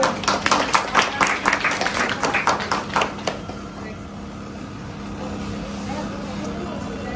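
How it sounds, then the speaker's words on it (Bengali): An audience at an award ceremony for a successful woman entrepreneur claps in a steady patter of applause for about three seconds, then the hall settles into a low murmuring room tone. "সবাই আমরা একটু করতালির মাধ্যমে"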